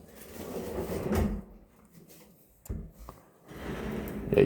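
Drawer of a built-in wardrobe with a double hanging rail slides open and shut in a room, giving a couple of close wooden rolling thuds with quiet pauses between them and no talking.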